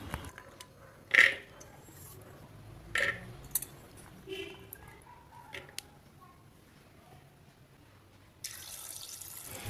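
Raw peanuts are washed, with water splashing and trickling in short bursts, light clinking and rinsing sounds, then a steady stream of running water at the end.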